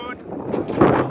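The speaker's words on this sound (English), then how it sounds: "It's really windy." Gusty wind buffeting the microphone on top of Binevenagh Mountain, a loud, close rumbling roar that swells over a brief moment.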